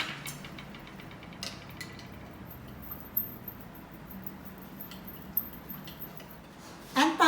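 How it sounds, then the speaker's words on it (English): Spoon stirring a tablespoon of instant coffee in a cup for iced cappuccino: faint, soft swirling with a few light clinks spaced through, ending in a louder clatter, quiet and close. "give it a stir."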